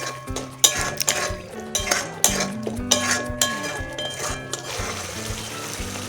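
A spoon scrapes and clinks against a pan as spice masala with salt, slit green chilies and kasuri methi is sautéed on low heat for cabbage kofta curry, irregular metallic strokes over a soft sizzle.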